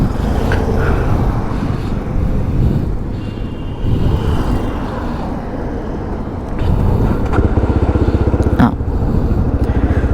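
A GPX Demon 250cc motorcycle engine runs close by in a steady, throaty idle, and it rises into louder revving toward the end.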